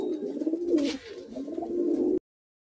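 A pigeon at a pigeon sale in Kolkata coos close by in one continuous, low, throaty murmur that dips briefly before rising again and then cuts off abruptly.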